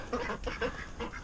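Ducks quack close by, several short nasal calls in quick succession, with no talk over them.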